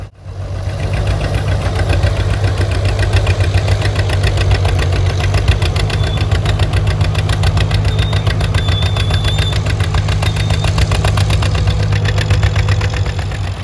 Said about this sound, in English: a well-decked out John Deere 50 working on his